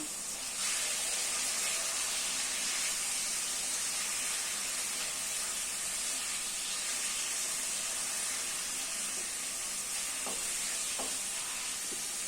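Homemade chicken curry stirred in a hot pan, a constant soft sizzling hiss with faint scraping, steady throughout and with no one talking.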